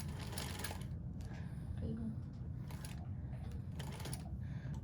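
A sewing machine runs in short bursts, stitching forward and back tacking on an in-the-hoop bag pocket, with a steady low motor hum and rapid needle chatter under a speaking voice.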